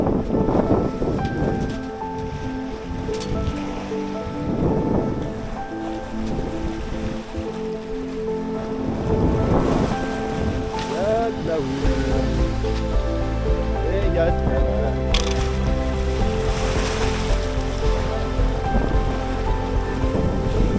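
Rough, worsening sea washes and slaps around a small sailboat sailing solo, with wind noise buffeting the microphone and someone talking in French over the surging water.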